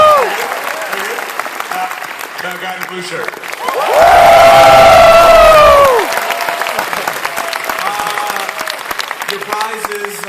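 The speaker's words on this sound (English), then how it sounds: "quick round of applause, the gentleman right here" Audience applause at PAX East breaks out loud and close for about two seconds, rising over a host's talk and crowd chatter, then fading back under continued speech.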